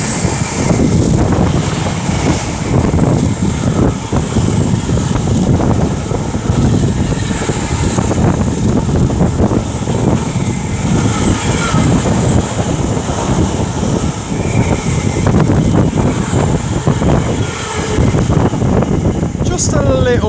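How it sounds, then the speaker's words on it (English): Strong gusts buffet a microphone on a railway station platform at Tamworth, a continuous loud rumbling roar that never lets up, with faint background voices now and then. "Just a little bit windy."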